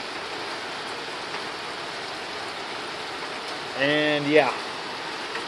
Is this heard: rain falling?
yes